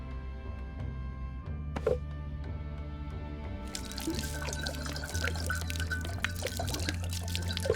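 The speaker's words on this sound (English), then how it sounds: "pay tribute by pouring some liquor for my homies" Liquor poured out as a tribute in The Dungeon Experience game: a steady pouring and splashing of liquid over a low musical drone, with drips and trickles growing busier partway through, moderately quiet.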